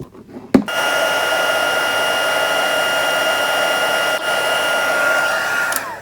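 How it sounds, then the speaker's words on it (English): A handheld heat tool blows steadily to heat-set embossing powder on a handmade card, starting with a click and a sharp burst, then running as a continuous close airy whir for several seconds with no talk. "We're going to bring the heat tool in and we'll just heat set that really quickly."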